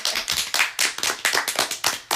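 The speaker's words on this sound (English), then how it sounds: "give yourselves a round of applause." Podcast guests clapping in a small studio group, a few pairs of hands giving a short, uneven burst of close, sharp claps with distinct individual strikes, no talking.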